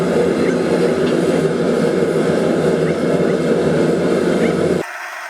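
A Majestic Forge propane burner roars steadily as it heats a piece of half-inch round steel, a loud continuous broadband rumble that cuts off abruptly near the end, leaving quieter background.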